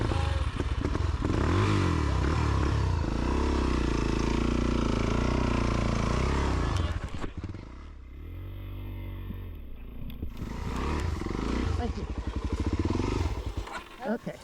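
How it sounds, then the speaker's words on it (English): Off-road dirt bike on a trail cases a log jump and flips onto its side, a loud engine roar cut by a clattering crash and thud, then quieter idling before the motor picks back up. "Cased out and flipped the bike over on its side."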